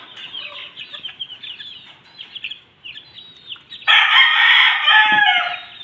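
Chickens and a rooster in a backyard flock, scattered clucking and calls at moderate distance, then a loud, sustained rooster crow bursting in close for the final two seconds.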